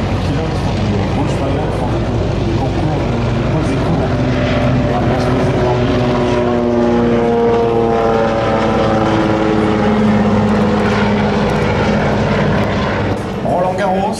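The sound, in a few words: propeller airplane flying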